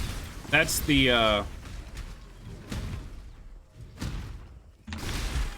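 Small explosions from the action game Path of Exile crackle and boom in several short bursts, one with a sweeping whine, spread across a busy game soundtrack while a voice briefly speaks.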